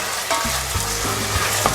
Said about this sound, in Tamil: இப்போ வந்து தக்காளி வந்து நல்லா மசியாக வதங்கணும், நல்லா மசிஞ்சிருக்கணும்.